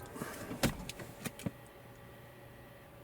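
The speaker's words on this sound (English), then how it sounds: "Right now I will turn off the vehicle." A Toyota RAV4 is switched off, with a few soft mechanical clunks and clicks at close range before a low engine hum fades into near silence.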